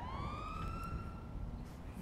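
An ambulance siren in the GTA video game wails in a steady rising and falling tone, faint and distant but continuous, with no talking over it.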